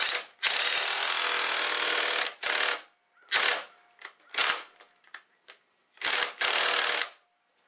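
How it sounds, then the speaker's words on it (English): Impact driver with a 3/8 deep socket rattling fasteners in, several loud close bursts of rapid hammering, a long first run then shorter repeated hits separated by silence, no talk. "we just grabbed our impact driver and a 3/8 deep set, and I pretty much rattle these in as far as they'll go"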